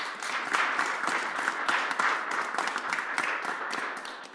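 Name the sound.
audience applause at community Kwanzaa festival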